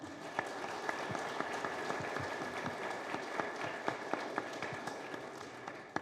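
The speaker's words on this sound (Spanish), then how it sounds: "También les pido un fuerte aplauso para él" An audience at a book presentation at a Mexico City book fair claps continuously, a steady wash of hands with scattered louder individual claps, moderately distant and even in level.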